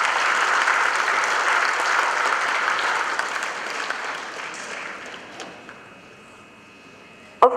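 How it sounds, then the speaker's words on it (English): Loud, dense audience applause at the opening of a radiographers' conference in Bali, holding steady for several seconds before fading to scattered claps and near silence, then a sharp knock at the end. "Please give big applause for the all presidents."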